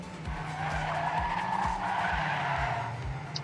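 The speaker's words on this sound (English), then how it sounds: "Great turn there from Cypher" Race car in a racing video game skidding through a turn, tires squealing continuously over a low engine hum, with repeated quick downward-sweeping tones at a steady rhythm.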